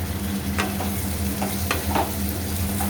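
Sago pulao with chickpeas being stirred in a hot pan, a steady sizzle with a few sharp scrapes of the spoon against the metal, nearby and without speech.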